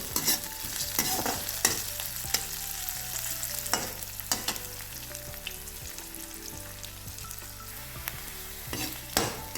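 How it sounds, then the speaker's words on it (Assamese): Sliced onions frying in hot oil with whole spices until reddish, for a masoor dal and pumpkin leaf dish; a steady close sizzle runs throughout, broken by repeated sharp scrapes and clinks of a stirring spoon against the pan. "ৰঙচুৱা হোৱালৈকে"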